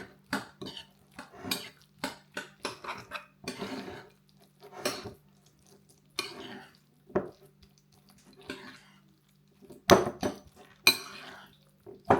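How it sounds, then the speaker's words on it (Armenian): A spoon stirs protein pancake batter with cinnamon in a bowl, giving a string of close, irregular clinks and scrapes against the bowl with brief quiet gaps, and a louder burst of clatter near the end. "Որից հետո մի հատ սենց լավ խառնում ենք։"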